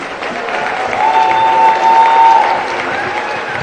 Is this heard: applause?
yes